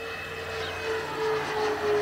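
A Grumman F-7F Tigercat twin-engine aircraft drones steadily in flight, a fairly faint, continuous engine hum with a slight swell toward the end.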